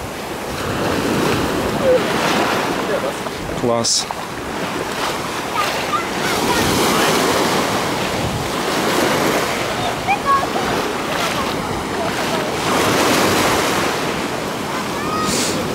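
Sea surf breaks and washes on a nearly empty beach in Alanya, Turkey, a steady roar of waves with wind buffeting the microphone and a brief spoken word.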